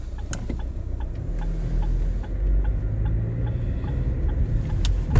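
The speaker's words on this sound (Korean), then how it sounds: "고급차의 기준은 이 똑딱이 소리. 똑딱이 소리 한번 들어보실게요." Turn signal indicator ticking inside a SsangYong New Korando C 2.0 CVT, a steady, soft, evenly spaced series of clicks close by, heard over a low cabin and engine hum with no talking.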